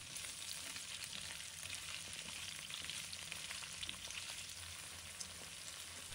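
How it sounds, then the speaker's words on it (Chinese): Scallion, ginger and garlic sizzle steadily in hot oil in a wok while braised pork ribs are being cooked at home, a dense, even hiss running without pause and without any talk. "伴随着热油的滋滋声，瞬间释放出诱人的香味"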